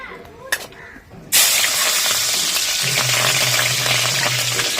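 Tempering for stuffed tinda curry bursts into a loud, steady sizzle in a hot pan after a quiet start, with a faint low hum running under it.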